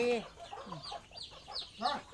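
Several chickens clucking nearby in short irregular bursts, with low murmuring clucks between louder calls.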